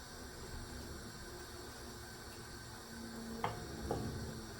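Pepper steak pan-frying Jamaican style, sizzling steadily in its own juice with a constant hiss and a couple of brief clinks near the end, no talking.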